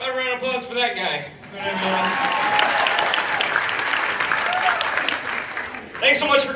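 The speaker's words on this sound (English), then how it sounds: "A round of applause for that guy." Casino comedy-show audience at Snoqualmie Casino breaks into applause, a full sustained wash of clapping between stretches of amplified talk at the start and end.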